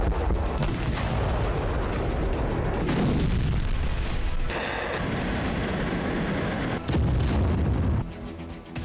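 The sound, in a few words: explosions at an airbase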